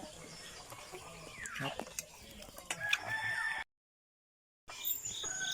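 Chickens at a rural countryside home clucking and calling amid outdoor background noise, some voices nearby, with a brief full dropout of sound near the end.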